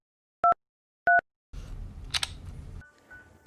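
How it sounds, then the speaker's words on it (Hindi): Two short, clear phone keypad tones sound alone as a PIN is entered to unlock a mobile phone, then a rustling handling noise and a faint beep follow. "मैंने अपना फ़ोन उठाया, फ़ोन के अंदर पिन डालकर अनलॉक किया।"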